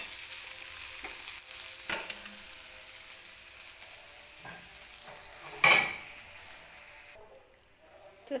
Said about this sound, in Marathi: हा हरभरा जो आहे तो असाच परतून घेणार आहे तेलामध्ये